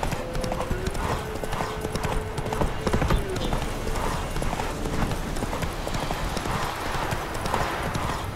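A horse gallops in The Witcher 3: rapid, continuous clip-clop hoofbeats, close and fairly loud, over a dense bed of game ambience.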